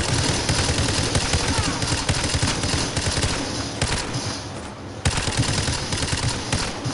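Sustained automatic machine gun fire in the video game Call of Duty: Modern Warfare 2 Remastered, dense rapid bursts with overlapping gunshots from several directions, loud and continuous with a brief lull before resuming.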